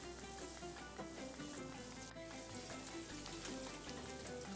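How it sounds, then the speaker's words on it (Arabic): Onions fry in a pan of oil while rice for a Kuwaiti machboos with birds cooks, giving a steady dense sizzle with faint crackles and no talk. "في طول ما يتحمر البصل"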